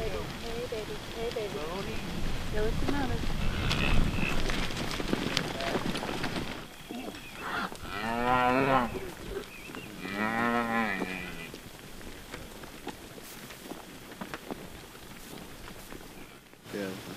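Cattle on a roughly 7,000-acre working cattle and guest ranch, several loud drawn-out moos rising from a noisy herd, with a person talking over the opening stretch.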